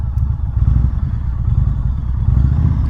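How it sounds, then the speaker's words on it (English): A motorcycle engine revs while the bike rolls slowly during slow-race practice, a close, steady, throbbing low chug with no voices. "you're supposed to be able to rev your engine"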